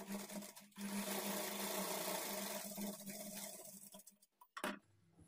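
A sewing machine runs steadily, stitching a lining blouse along a folded quarter-inch margin. The motor hum continues for about four seconds, then stops, and one short burst follows near the end. No voices.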